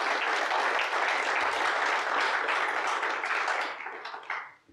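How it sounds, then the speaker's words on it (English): A conference audience applauds a speaker, a thick continuous burst of clapping from a crowd that holds steady, then thins and fades out. "just give this man another clap, please"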